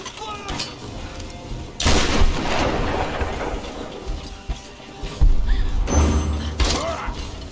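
Shotgun fire in the video game Tomb Raider: a few loud, heavy blasts at irregular intervals, each with a booming thud and crashing tail, over a busy background of game noise.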